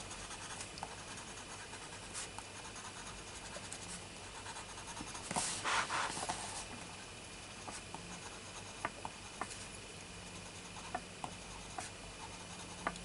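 Coloured pencil shading flowers on paper, a soft continuous scratchy rub with a brief louder burst of quick strokes midway, close and quiet with no talk.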